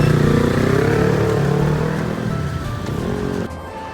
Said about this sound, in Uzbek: Bu shaharda ancha skuterlar